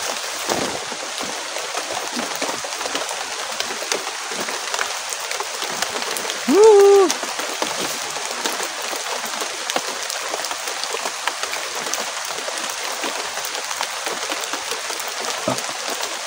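Steady, dense rain pattering on a house roof, a constant wash of drops with a brief faint tone midway, no talking.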